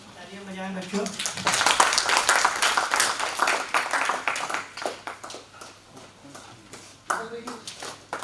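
Children at a Khelo India workshop clap together to welcome the chief guest, a dense burst of many small hands that swells and then tapers off, with an adult voice speaking before and after the applause.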